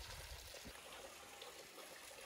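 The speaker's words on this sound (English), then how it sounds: "Comes with a waterfall and everything." A small waterfall spills into a pool in a desert canyon oasis in Fish and Owl Canyon, Cedar Mesa, Utah, giving a faint, steady trickling rush of water that stays even throughout, with no voices.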